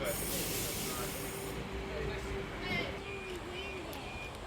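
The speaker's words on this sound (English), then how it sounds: "H24 departing platform number 1 for a Central Sydney Terminal service" NSW Trainlink H24 train departing platform 1 at Koolewong on a Central Sydney service, a steady rumble and hiss of rolling stock with a faint squealing tone, heard up close under continuous noise.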